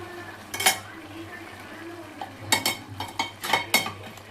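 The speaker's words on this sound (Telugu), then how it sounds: "రొయ్యలు వేసుకోవాలి." Prawns going into a pot and being stirred, several sharp clinks and scrapes of a utensil against the pot, quiet and intermittent.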